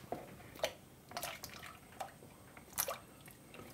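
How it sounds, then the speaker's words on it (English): Potatoes gently lowered into a pot of water salted with kosher salt, a few soft plops and drips spaced apart in a quiet kitchen, no talking. "Then gently put in your potatoes."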